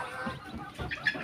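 Mother hen with her newly hatched chicks, giving short soft clucks and faint high peeps close by, all within about a second.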